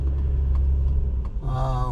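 Road traffic at rush hour from a stopped vehicle: a steady low engine rumble with passing car noise, a voice briefly heard near the end.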